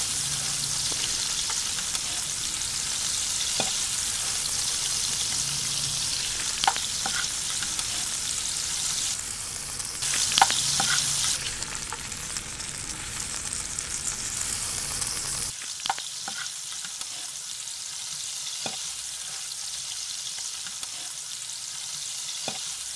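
Curry leaves hit a hot pan and get a light stir for hotel-style chicken white kurma, giving a steady loud sizzle with occasional scraping taps that stops abruptly partway, leaving quieter stirring.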